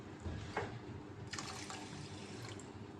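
Water poured into sugar in a pan for a sweet syrup, a soft, close splashing and trickle running steadily for a few seconds with no talk.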